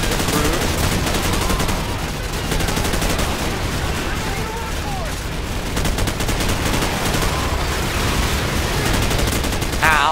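Dense, continuous machine gun fire in the Call of Duty 4: Modern Warfare campaign, a steady loud rattle filling the whole stretch with battlefield noise and some faint voices underneath.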